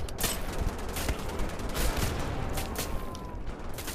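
Shotgun blasts in the first-person shooter Wolfenstein: The Old Blood ring out amid a dense, continuous wash of game combat noise, with sharp broadband bursts scattered through the steady din.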